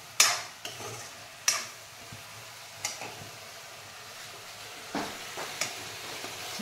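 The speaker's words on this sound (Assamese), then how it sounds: "আৰু ইয়াতে এতিয়া তিতা ফুলখিনি তিতা ফুল দি দিলে মায়ে অলপ ভাজিম" Bitter flowers fry in a pan with a steady low sizzle, broken by several sharp clicks and scrapes of a utensil stirring against the pan.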